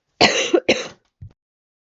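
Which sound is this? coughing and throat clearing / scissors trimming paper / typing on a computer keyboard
coughing and throat clearing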